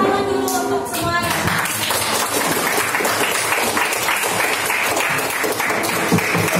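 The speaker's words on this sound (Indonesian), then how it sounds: "Beri tepuk tangan dulu untuk semuanya." A classroom of students breaks into loud, sustained applause that fills the room for several seconds, after a brief spoken instruction at the start.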